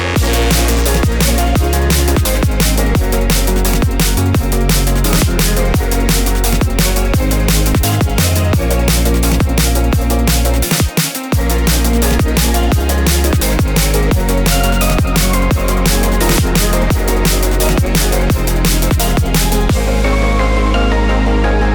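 Modern melodic drum and bass B section after the drop, built in FL Studio 21, with a dense driving breakbeat, heavy sustained bass and busy layered synths, loud and continuous with a brief near-silent gap midway.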